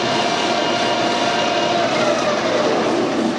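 A metal lathe spinning at 1000 RPM takes a 1 mm interrupted facing cut with a Banggood carbide tool, producing a loud, steady broadband roar with a faint tonal whine, continuous throughout with no talking.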